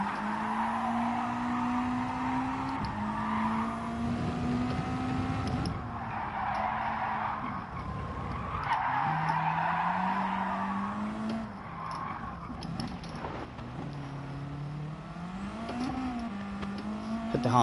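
Subaru WRX rally car in Gran Turismo 7 cornering with a sustained engine drone that shifts pitch through gear changes, tire skid and scrub noise rising and falling across a loud, continuous stretch.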